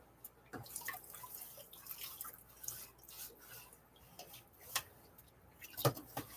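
Water drips and taps sharply while dishes are washed in a home kitchen, with scattered irregular plinks of varying loudness over a quiet background.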